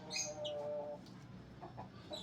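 A hen clucks close by among farm chickens, giving a few short high calls followed by a drawn-out squawk, then quieter scattered clucks.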